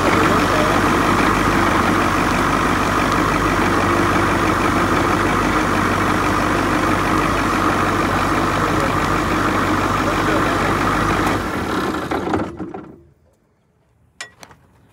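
A loud, steady rumbling bus diesel engine running continuously up close, then shutting off near the end, leaving a brief clunk in the quiet.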